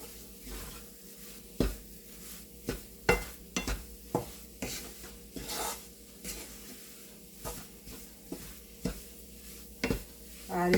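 A spoon stirs jaggery sukhdi in a pan over low heat, giving repeated sharp scrapes and knocks against the metal in an irregular rhythm, up close over a faint steady sizzle.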